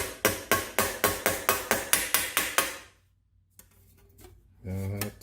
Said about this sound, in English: We'll use that and a ball peen hammer and hammer out these little problem points.